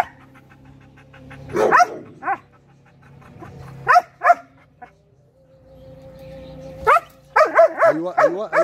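A frightened dog that has never left the house meets other dogs for the first time and lets out several sharp barks and high whimpers. The calls come close and in bursts, with quiet gaps between them and faint voices in the background.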